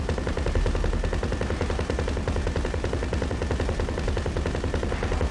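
Rapid, continuous automatic gunfire from a multiplayer heist shooter game, dense and loud throughout with no pauses, close and steady without any talk over it.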